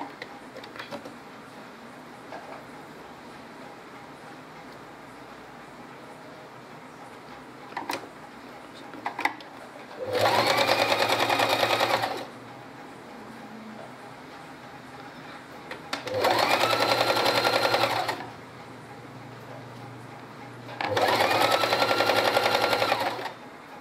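Sewing machine stitching lace onto the lower edge of a puff sleeve, running in three separate bursts of about two seconds each, close and clear, with quiet pauses between runs.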